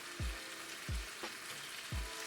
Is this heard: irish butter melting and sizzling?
yes